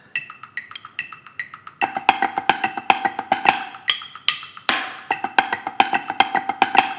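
Snare drum flam accent patterns run in steady repeating groups of three with sharp accented strokes, played close and clear, first at a quieter level and then with fuller, louder hits, with no talking.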